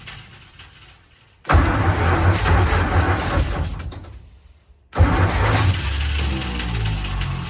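A 1957 Ford P350 bread van's starter cranks the engine in two loud, close bursts separated by a short pause, without the engine catching.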